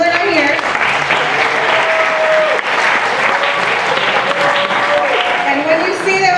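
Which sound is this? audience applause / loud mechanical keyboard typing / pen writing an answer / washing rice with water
audience applause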